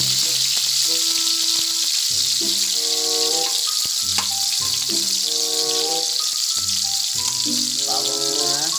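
Squid sizzles and fries in cooking oil for adobo, a loud continuous hiss that runs steadily under background music.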